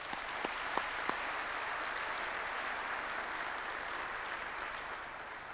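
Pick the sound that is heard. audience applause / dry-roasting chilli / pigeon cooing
audience applause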